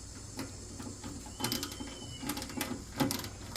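A hand tool working a 10 millimeter nut loose on a Tractor Supply mini Jeep's starter solenoid relay: faint, close ratcheting clicks and metallic taps in irregular bursts over a low background hum.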